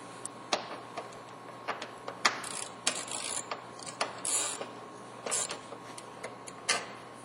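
A ratchet clicks in irregular short bursts while loosening headlight bolts on a Ford Expedition, the ticks close and fairly quiet against a steady background hum, with no talk.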